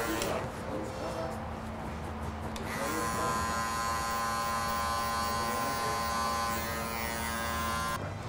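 An electric hair clipper fitted with a number one guard buzzes steadily while cutting hair at close range, its hum rising in intensity after a few seconds, with a person talking over part of it.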